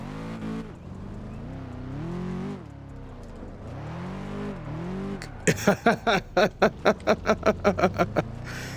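A car driven in the Test Drive Unlimited 2 racing game revs with a rising and falling engine tone, then hits a run of about ten rapid, evenly spaced loud bursts as the handbrake is yanked.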